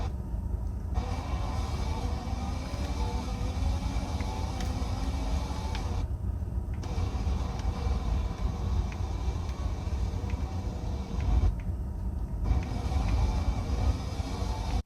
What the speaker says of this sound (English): So here in F1 2020, just loaded up a random race. I want you to watch and listen to the audio.